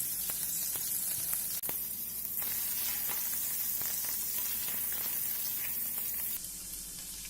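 Grated ginger and finely chopped green chilies fry in hot oil, a continuous close sizzle with scattered sharp pops and crackles and no voices.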